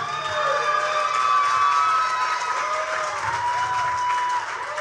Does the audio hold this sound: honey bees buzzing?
no